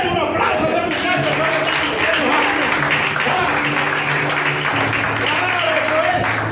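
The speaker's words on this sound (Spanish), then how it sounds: "Denle un aplauso a ese muchacho" A congregation at a church service applauds a young man on his birthday, steady sustained clapping from a crowd filling the whole clip, with voices and music mixed in.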